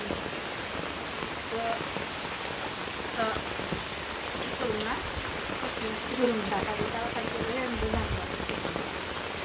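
Steady rain patters on surfaces in a rural home setting, a constant close hiss running under people talking.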